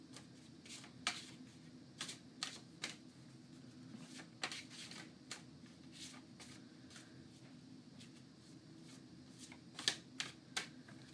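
Quick riffling bursts of Marvel United board game cards being shuffled recur irregularly, crisp and close, over a quiet room with no talking.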